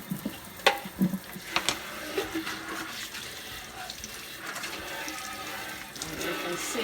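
A dish being rinsed under running water from a tap while handmade apple blossom dish soap cubes are demonstrated, with a steady splashing wash and a few sharper clatters early on.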